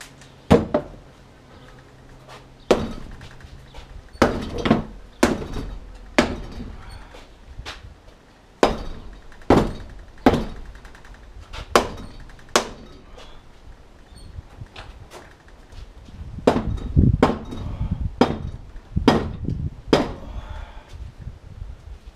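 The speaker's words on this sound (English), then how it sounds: "Few good hits with the right hammer, in this case a rubber mallet" A rubber mallet strikes an aluminium Sea-Doo RXP 215 engine block in a series of dull, thudding blows at an uneven pace, some in quick pairs, close by with quiet gaps between.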